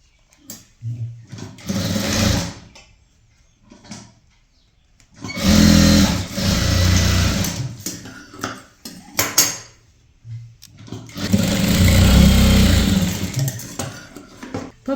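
A sewing machine stitches a maxi dress seam in three long whirring runs, loud and close, with quiet pauses between bursts and no talk.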